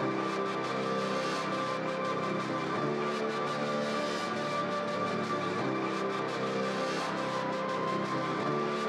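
A second keyboard part in a modern pop song mix, sustained and steady with a faint pulsing chordal texture throughout, quiet and unchanging without any voice.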